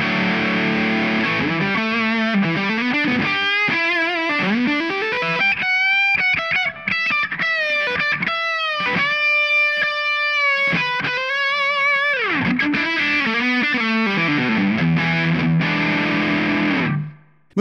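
An electric guitar through a Tonex capture of a Marshall Silver Jubilee amp, darker overdrive setting, plays gritty sustained chords and bends, loud and unaccompanied, ending abruptly.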